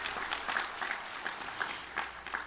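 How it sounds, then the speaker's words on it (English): Commencement audience at an outdoor college graduation ceremony applauding award recipients, moderately faint scattered clapping with distinct individual claps popping out over a soft crowd wash. "Yeah, you can applaud."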